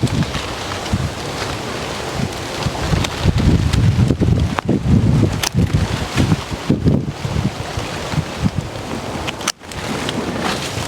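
Strong gusty wind blows around mango trees ahead of Hurricane Helene, roaring and buffeting the microphone in loud surges with brief lulls, no talking.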